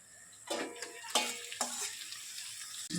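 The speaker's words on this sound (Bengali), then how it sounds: "এতিয়া মই মাংসখিনি ইয়াতে দি দিলোঁ" Goat meat stirred and fried in a pan with browned onions and spices, a steady close sizzle broken by several scraping stirs of a spoon against the pot.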